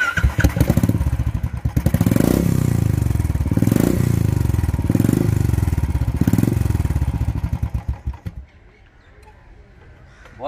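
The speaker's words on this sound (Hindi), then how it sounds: "और बाइक का एग्जॉस्ट सुना देता हूं मैं आपको एक बार।" Modified Royal Enfield motorcycle fitted with an aftermarket exhaust, revving repeatedly in a series of loud, deep throttle blips before settling back to a low idle and fading.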